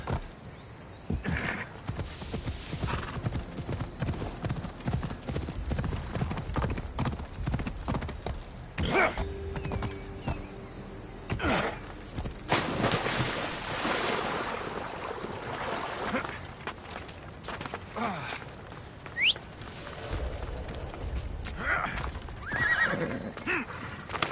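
Horse in a PS4 video game, with hooves clip-clopping in uneven runs and a few neighs and whinnies, moderately close, mixed with faint ambient game sounds and no talk.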